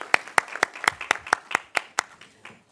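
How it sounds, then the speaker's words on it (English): About ten single claps ring out at a steady, even pace at a university research event, fairly faint and fading toward the end. "Can you give them a round of applause?"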